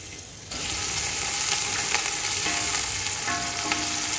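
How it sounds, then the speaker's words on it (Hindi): Onions dropped into a cup of hot cooking oil for chicken pulao burst into a loud, steady sizzle after a quiet start, hissing continuously and close with faint stirring clatter, no speech. "ऑयल गर्म हो चुका है, अब इसके अंदर प्याज डालते हैं।"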